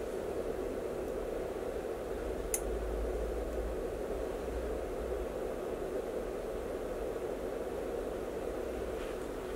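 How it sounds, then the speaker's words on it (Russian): A Noctua NF-A12x25 computer fan runs with a steady, soft broadband whoosh, faint and even throughout against quiet room background, with no talking. "сколько же добавляет этот фон звук от самого вентилятора"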